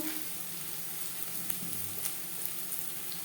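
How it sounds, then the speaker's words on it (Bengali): Onions fry in oil with turmeric and salt for begun bhaja, giving a soft, continuous sizzle with faint crackles and a few light stirring clicks, quiet and steady throughout. "পেঁয়াজ লালচে করে ভেজে নেব"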